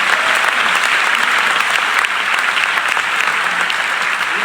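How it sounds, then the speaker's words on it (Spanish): Loud, sustained applause from a church congregation, steady clapping filling the space without a break. "Den un aplauso fuerte al Señor de la gloria."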